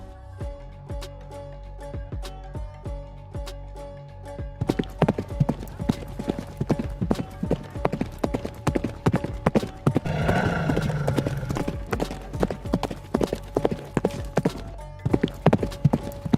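Horse hooves clip-clop steadily in Star Stable Online, a regular close rhythm of game footfalls with occasional whinnies, first alone and then beneath ongoing in-game music and effects.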